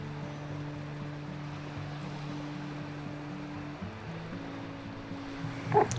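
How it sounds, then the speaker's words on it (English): Waves of the incoming tide wash steadily onto the seashore at Burnham-on-Sea near the lighthouse, a continuous close surf hiss with a low droning hum beneath and a brief louder splash near the end. "And there's the tide on its way in."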